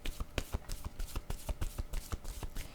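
Playing cards riffled and shuffled by hand, then a single card drawn from the deck, giving a rapid run of crisp, close, evenly spaced flicks with no voices.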